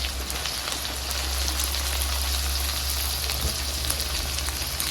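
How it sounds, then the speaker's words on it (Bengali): Chopped onion frying in hot oil with ginger and garlic, a steady, dense sizzle and crackle that holds evenly throughout with no voices. "আদা রসুন হালকা ভেজে নেব। এখন দিয়ে দিব পেঁয়াজ কুচি"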